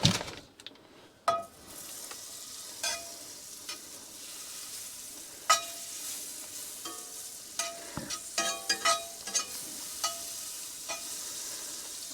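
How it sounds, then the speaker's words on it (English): A chunk of butter sizzles in a warm frying pan set for two steak slabs, a quiet steady crackle broken by scattered sharp pops and metallic scrapes, close and without voices. "Throw a nice chunk of butter in there."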